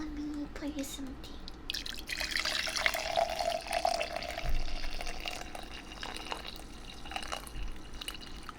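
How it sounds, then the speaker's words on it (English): Tea is poured into a cup, a gentle trickling stream building and then thinning to drips at a close distance under soft background noise. "let me pour you some tea."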